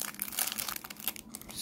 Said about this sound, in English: I'll just risk it using the scissors there.